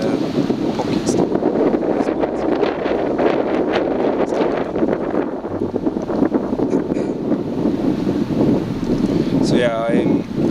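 Strong wind buffets the microphone outdoors on a day hike, a loud continuous rumbling roar with gusty surges throughout, with no voice heard over it.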